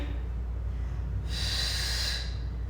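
A breathy exhale through the nose during a mat Pilates exercise, a short soft rush of air lasting about a second, close and alone over a low steady background hum.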